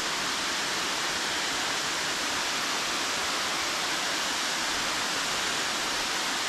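Abbey Falls in Coorg roars as a constant, loud wash of rushing water heard up close, dense and unbroken throughout with no talking.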